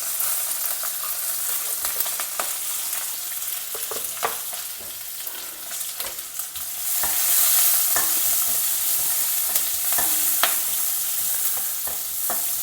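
Curry leaves, green chillies, ginger and sliced onion sauté in hot oil, giving a steady close sizzle with scattered sharp crackles and stirring scrapes, growing louder and more intense about midway, with no talking.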